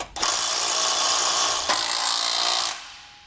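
A power tool tightens U-bolt lock nuts on a Malone MicroSport trailer, running close and loud in a continuous whir of about two and a half seconds, with a short break in the middle, then stopping.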